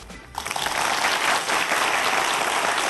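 Audience applause at a Korean popular-science lecture bursts in after a brief quiet moment, then continues as thick, even clapping from a large seated crowd.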